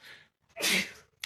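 A single human sneeze, with a short sharp intake of breath just before the loud burst, heard clearly up close.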